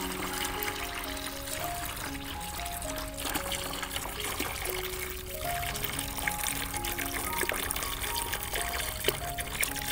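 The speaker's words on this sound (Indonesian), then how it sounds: "Kemudian ini kita tambahkan dengan air" Water poured into a container, filling it toward 10 liters while making homemade liquid organic fertilizer from household waste; a steady, continuous pouring and trickling wash runs throughout at moderate level with no talk.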